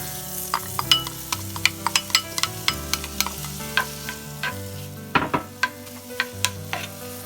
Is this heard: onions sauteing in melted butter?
yes